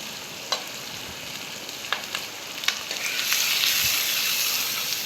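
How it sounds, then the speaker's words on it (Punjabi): Onion and ginger frying in hot oil for paneer bhurji, with a few sharp spoon clicks against the pan, then the sizzle swelling into a loud, bright hiss. "ਸਭ ਤੋਂ ਪਹਿਲਾਂ ਪਿਆਜ਼ ਤੇ ਅਦਰਕ ਨੂੰ ਭੁੰਨ ਲੈਣਾ ਹਲਕੇ ਜੇ ਤੇਲ ਨੂੰ ਗਰਮ ਕਰਕੇ"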